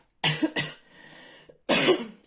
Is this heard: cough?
yes